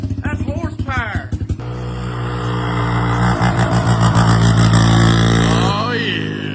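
A 1989 Chevy K1500 truck engine with a knock revs hard and holds a loud, steady roar for several seconds after some brief talk, then drops back toward idle.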